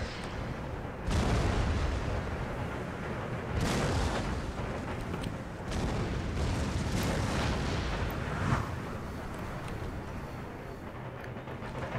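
Artillery and mortar fire in Empire Total War, a battlefield of repeated heavy booms and rumbling volleys arriving every few seconds over a constant din of distant gunfire.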